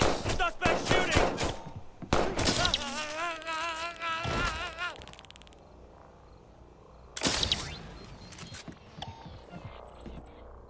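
Gunfire in the video game Watch Dogs 2 rings out in rapid bursts of sharp shots, then a pause and another loud volley, with voices and game sounds in the mix.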